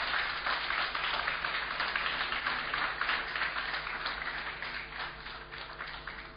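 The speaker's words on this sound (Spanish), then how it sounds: "agradecemos con un fuerte aplauso la prestación de ambos equipos" Audience applause for two debate teams at an international debating tournament, a steady dense clapping that holds at moderate volume throughout, with no talk over it.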